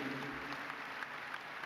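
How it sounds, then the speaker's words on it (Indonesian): Applause from an audience at a televised comedy event honoring an athlete, a soft, even patter of clapping that stays faint and distant throughout with no talking on top. "tepuk tangan untuk Mbak Susi Susanti."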